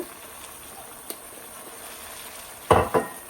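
Noodle sauces and vinegar stirred together in a pan: a quiet stretch, then two brief bursts of wet scraping and sloshing near the end.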